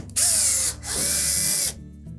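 A power screwdriver whirs in two quick bursts as it backs Phillips screws out of a Samsung dryer's top panel, the second burst longer, close and loud with a brief pause between.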